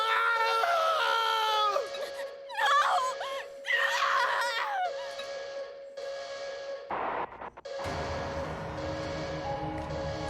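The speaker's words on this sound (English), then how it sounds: "Familiar scientists scream out in ugly agony." Scientists screaming in ugly agony in the video game Zanki Zero, a run of high, wavering cries and shrieks in bursts over a steady tone, then a sudden noisy crash and a lower droning scene.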